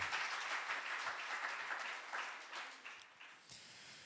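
A church congregation applauds during a Sunday service, a sustained wash of many hands clapping that gradually thins and fades toward the end.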